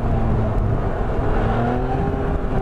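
Yamaha MT-09 motorcycle engine pulling hard during a wheelie, a loud, close, continuous roar with rising pitch and heavy wind noise across the whole stretch.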